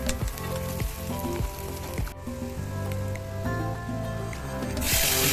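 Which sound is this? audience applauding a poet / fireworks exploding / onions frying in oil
onions frying in oil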